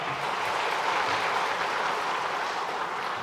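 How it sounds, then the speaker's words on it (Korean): A church congregation at a Sunday service applauds to welcome newcomers, with a steady, moderately loud wash of clapping that holds evenly throughout. "우리 잠깐 자리에 일어나시면 우리 다 같이 환영하는 마음으로 박수하겠습니다"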